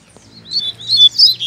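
Wild birds chirp outdoors in a green, grassy area: a quick run of high, bright tweets and trills, fairly close and clear, with no talking over them.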